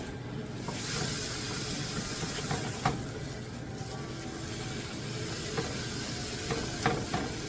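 Ground turkey stirred and fried in a pan for turkey pasta, a steady close sizzle with scraping stir strokes and a few sharper clinks of the utensil against the pan, no talking.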